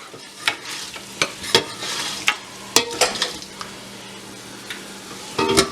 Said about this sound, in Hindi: इसको जिंजर गार्लिक के साथ तकरीबन थोड़ा सा इसको भूनूंगी जब तक कि गोश्त अपना थोड़ा सा कलर चेंज ना कर ले